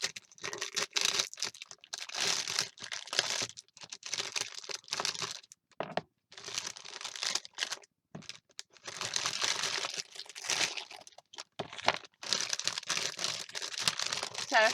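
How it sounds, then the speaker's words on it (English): Plastic packaging around rubber stamps crinkles loudly and close up in repeated bursts, broken by short silent gaps. "Sorry for all the crinkling,"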